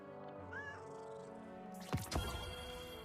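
A cat meows close to the microphone, a short rising call early on, followed by two louder, harsher cries near the end over a steady background hum.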